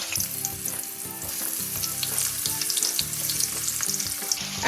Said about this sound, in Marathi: आता तेल गरम झालेलं आहे. आता आपण त्यामध्ये हे दोडके सोडायचे म्हणजे भरलेले.